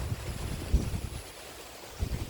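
Typhoon Kristine's strong wind in Bohol rumbles against the microphone in low, uneven gusts with a few heavier buffets, faint and steady, no voices.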